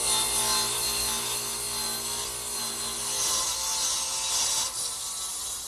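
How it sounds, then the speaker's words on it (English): A radial arm saw set to roughly a 40-degree angle cuts through wooden side pieces for a writing desk, giving a steady, loud broadband rasp of blade through wood that runs continuously without voices. "Now I'm ready to cut these side pieces, actually cut the angle on the side pieces, which I'll do over here on the radial arm saw"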